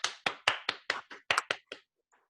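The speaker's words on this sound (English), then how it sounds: "Let's have a hearty round of applause for Naya Berre." About nine sharp, separate hand claps in quick succession, close and fairly quiet, from a small audience greeting a presenter at a software capstone event, then silence.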